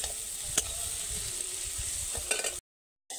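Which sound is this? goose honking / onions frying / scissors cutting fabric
onions frying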